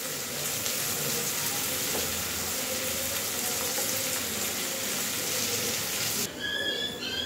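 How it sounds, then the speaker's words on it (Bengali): Capsicum and onion frying in a pan, a steady broadband sizzle running continuously for several seconds, fairly close, before a brief change near the end with a few faint tonal streaks. "দেখতে পাচ্ছেন আমাদের ক্যাপসিকাম পেঁয়াজ ভাজা হয়ে গেছে"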